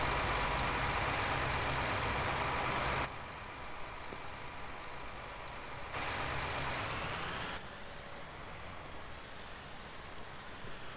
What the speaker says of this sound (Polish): Po którym od razu słychać, że to jest ciągnik na ropę.